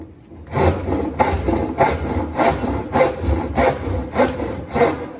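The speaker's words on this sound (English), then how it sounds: "I'm going to take my handsaw." A handsaw cuts through wood for a boat paddle in steady back-and-forth strokes, about two per second, close and loud, with a rasping, scraping texture and no talking.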